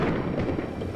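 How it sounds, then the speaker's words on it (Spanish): Steady rain falls as a dense, even hiss, loud and continuous with a low rumble beneath, for about a second. "Y llueve."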